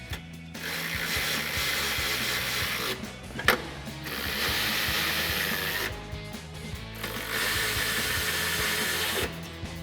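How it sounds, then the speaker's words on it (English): A 13mm socket on a ratchet tightening step bar bracket bolts on a Ford F-150, a close, steady run of rapid clicking and scraping in long stretches with brief pauses and one sharp knock. "you can come in with your 13mm socket on your ratchet and tighten these down."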